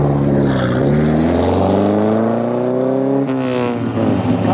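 A classic rally car accelerates hard away from the start of a timed lap on the Monza Grand Prix circuit, its loud engine climbing through the revs, shifting gear, then rising again.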